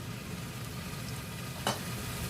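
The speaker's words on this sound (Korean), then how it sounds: "저는 느타리를 그냥 볶아 버릴 거예요" Oyster mushrooms stir-fry over high heat, a steady low sizzle with a single sharp scrape of the utensil partway through, close and without talk.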